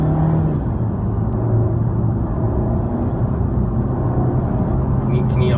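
Mercedes C180 W204 fitted with a RaceChip XLR, its engine revving as the gas pedal is pressed, a steady close low rumble with rising and falling revs under ongoing talk.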